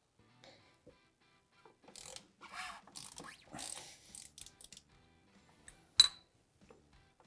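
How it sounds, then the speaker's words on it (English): An oil filter wrench works the oil filter off a Yamaha Ténéré 700, giving scattered metallic clicks and scrapes and one sharp clink, close and fairly quiet, with gaps of silence between. "I'm going to remove the oil filter as well using our oil filter wrench."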